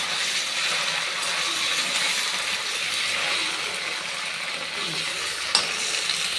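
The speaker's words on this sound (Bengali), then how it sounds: "পনিরটা বেশি ভাজতে হয় না, তবু তো হালকা ভাজা দিয়ে নিই।" Paneer fries lightly in a pan with a continuous even sizzle and a single sharp metallic tap near the end, and no voices.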